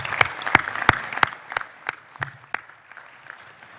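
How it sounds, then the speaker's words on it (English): A luncheon audience at a scouting council event gives a short burst of scattered applause, with crisp, separate claps that quickly thin out and trail off. "If you would join me in a round of applause for people that set this up."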